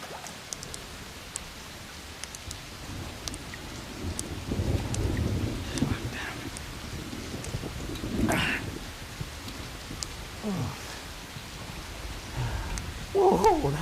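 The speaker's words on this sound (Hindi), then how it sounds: "आज बारिश होगी" Steady rain hiss fills the scene, with low rumbling swells like distant thunder rolling through and brief louder gusts near the end.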